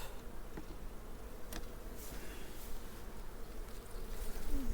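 Faint, continuous buzzing of many honey bees in the background, with soft scattered ticks and rustles outdoors.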